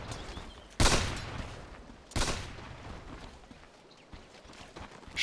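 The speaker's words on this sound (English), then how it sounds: "Sure is shooting." Two sharp sniper rifle shots ring out about a second and a half apart in Dota 2, each a loud crack with a short tail over low game ambience, then a fainter pop near the end.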